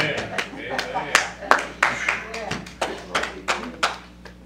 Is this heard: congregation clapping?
yes